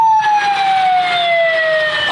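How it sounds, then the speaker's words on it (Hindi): Ambulance siren wailing close by in road traffic, a loud steady tone slowly falling in pitch over about two seconds, with no talk over it. "ओ भाई पीछे एम्बुलेंस है यार, जल्दी कर दे, पेशेंट उसमें लेटा हुआ है"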